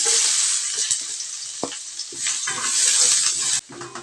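Minced garlic fries in hot cooking oil in a pan for a sotanghon noodle dish, giving a loud, continuous bright sizzle broken by a few stirring clicks and scrapes.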